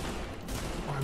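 Dense gunfire in the video game The Division, a brief continuous burst of rapid shots with a voice speaking under it.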